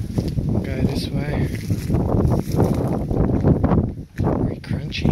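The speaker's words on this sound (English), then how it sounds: "Sorry if I'm making heaps of windy noises." Heavy wind buffets the microphone in a constant low rumble at an abandoned turn-of-the-century farmhouse, with a person talking over it.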